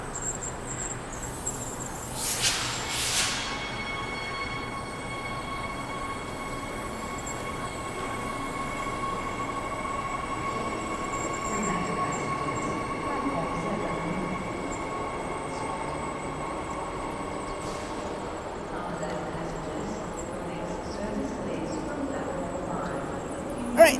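A Perth commuter train pulls away from a station platform, a steady low rumble with a faint high whine and brief squeals early on, heard from nearby without talk.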